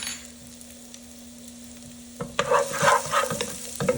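Garlic and chili flakes frying in hot oil for spicy lamb meatballs, a soft steady sizzle under a low hum, broken later by several clattering stirring scrapes, with no talk.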